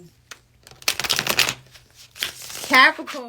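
A deck of tarot cards is shuffled in quick riffling bursts, crisp and close, with brief pauses between shuffles and a voice speaking at the end.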